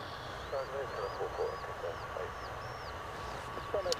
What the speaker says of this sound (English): This is an Airbus Neo, if you're noticing a different sound on the engines on this one.